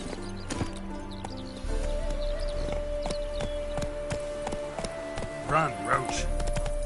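In The Witcher 3 on PS5, a horse's hooves clip-clop at speed in rhythmic beats. A voice speaks over the hoofbeats and a soft whinny comes near the end.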